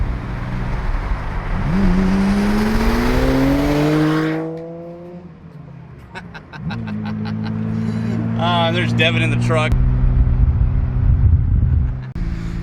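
Fitted with a new exhaust, an R32 Skyline GTR climbs in loud revs, falls away, then pulls again through gear changes, with someone speaking briefly over the engine noise.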